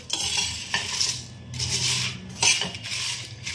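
Whole spices for homemade biryani masala stirred and roasted in a pan over a low flame: close scraping and clinking of a utensil against the pan over a soft, continuous sizzle.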